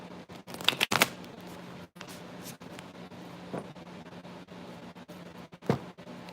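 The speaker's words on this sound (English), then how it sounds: "Let me make sure they're really shuffled really quick." Tarot cards being shuffled by hand indoors, a soft papery riffle with a few brief louder flutters and taps standing out against a quiet background hiss, no voices.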